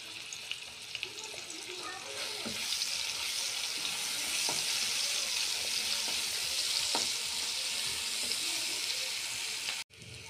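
Onion, garlic and green chili sizzling steadily in hot oil in a pan, a constant bright frying hiss with a few soft clinks of stirring, fairly close and without talk.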